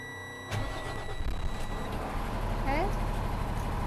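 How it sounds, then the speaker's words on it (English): A truck tractor's engine is started during a pre-trip inspection, cranking and catching abruptly, then settling into a loud, steady idle rumble close to the microphone. "I'm going to turn on my engine"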